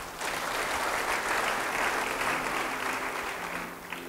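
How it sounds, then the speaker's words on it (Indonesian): A church congregation applauds for God during a sermon, with steady, fairly distant clapping building quickly and holding for several seconds before easing off. "beri tepuk tangan buat Tuhan"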